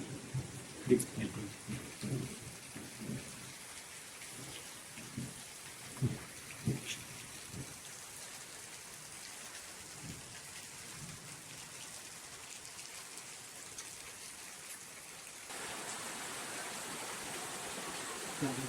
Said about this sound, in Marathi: तिसऱ्या दिवसामध्ये आज तुफानी पाऊस पडतो